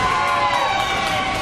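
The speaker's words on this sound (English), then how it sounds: "listen to this crowd coming alive for Michael Facade" A wrestling crowd at an IWC Clearfield Cataclysm show roars and cheers for Michael Facade, a dense, loud, steady wall of shouting and whoops that fills the room.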